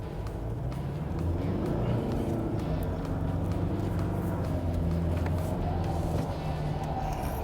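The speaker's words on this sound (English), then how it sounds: "So I'm not going to try and attempt and get this Hilux sideways with a little bit of speed." A Toyota Hilux 4x4 drives with a steady, close engine drone and low rumble, revving evenly throughout with no talking.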